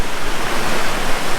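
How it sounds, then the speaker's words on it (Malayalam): Rushing water at Thooval waterfall in Idukki, a steady, loud, broadband roar that fills the whole moment without a break and with no voices over it. "ഈ വെള്ളത്തിൻ്റെ സൗണ്ടിൽ എൻ്റെ സൗണ്ട് കേൾക്കുന്നുണ്ടോയെന്ന് എനിക്കറിയത്തില്ല."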